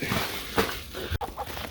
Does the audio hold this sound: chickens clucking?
yes